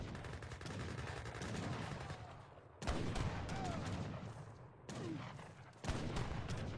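Gatling gun fire in a video game, rapid bursts of automatic shots that cut in abruptly several times over a steady background rumble, fairly distant and moderate in level.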